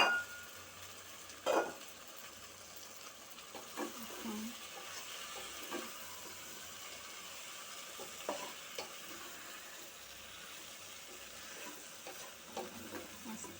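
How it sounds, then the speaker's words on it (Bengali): Pasta being stirred into tomato sauce in a pan, faint scraping and occasional light clinks of a utensil over a soft sizzle, quiet and close, no talk. "আস্তে এভাবে নাড়তে থাকবো"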